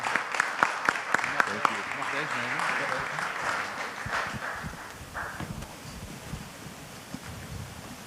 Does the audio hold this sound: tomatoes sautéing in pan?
no